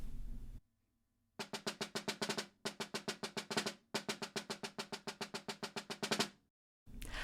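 A solo snare drum plays an etude in crisp, close, rapid strokes, its 32nd-note figures given a slight emphasis, in several phrases separated by brief silences.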